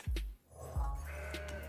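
A Mountain Goat card in the video game Legends of Runeterra bleats, giving two short, close goat cries in quick succession and then a fainter third call.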